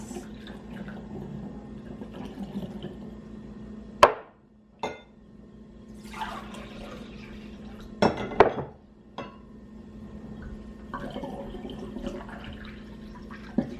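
Homemade kombucha with blueberries is poured through a funnel into a bottle, a soft trickle of liquid broken by several sharp clinks and knocks, with no voices.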